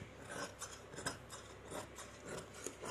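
Scissors snip through fabric while cutting out night dress pants, giving a series of quiet, close rasping cuts in an uneven rhythm, with no voices.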